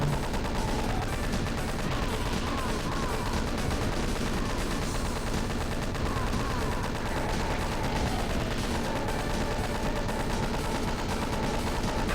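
A chain gun firing in a video game level, one unbroken, steady rattle of rapid shots that holds at an even, loud level from start to finish with no pauses.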